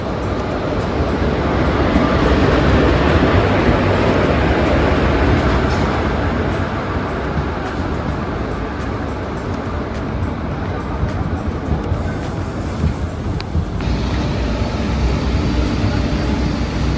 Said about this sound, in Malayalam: 166-10 നമ്പർ മംഗലാപുരം കോഴിക്കോട് എക്സ്പ്രസ് വരുന്നുണ്ടേ